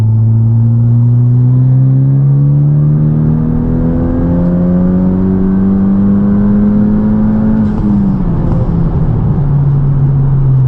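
Honda Civic Type R pulling hard in fourth gear in R mode, a loud steady engine drone rising in pitch for about eight seconds before a brief dip at the shift, then continuing, with no talk.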